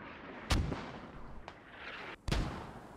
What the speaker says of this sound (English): They're being chased by mortars.